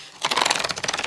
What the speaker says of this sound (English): Nice loud tearing sounds on the video.